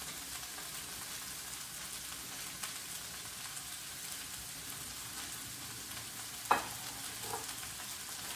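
Soybean sprouts and beef cook in a pan with a soft, even sizzle, fairly quiet and steady, broken once by a sharp utensil tap.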